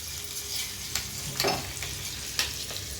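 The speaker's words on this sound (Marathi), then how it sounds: "छान असे वाफले आपले टमाटे चांगले वाफू द्यायचे" Tomatoes sizzling and steaming in a pan while cooking down for a spicy Maharashtrian thecha, a steady crackling fry with a few clicks of stirring, fairly close and without talk.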